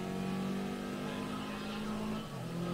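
A Chevrolet Camaro engine revving in the GRID Legends racing game, a steady mid-pitched drone that holds, dips briefly as it shifts, then pulls up again.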